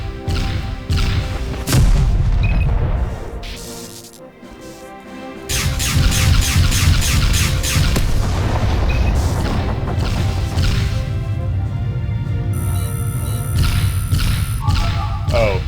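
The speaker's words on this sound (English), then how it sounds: "Oh, the explosion actually damaged me." Explosions and weapon fire in Freespace, a space combat video game, loud and dense booms and crashes layered with squealing effects, continuous apart from a brief lull.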